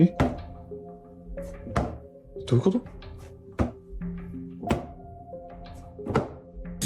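Repeated dull thumps at uneven intervals as a balloon bounces on stairs like a basketball, with a low background hum throughout.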